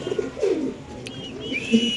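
A pair of Lotan pigeons coo softly in low, rounded calls, with a few faint higher chirps from other birds in the background of a pigeon farm.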